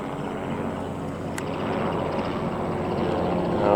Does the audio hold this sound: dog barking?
no